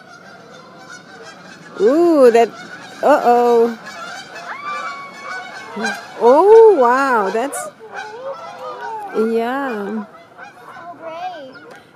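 Goose honking loudly in repeated bursts close by, a few calls in a row with pauses between, while adults and someone talk over and between the honks.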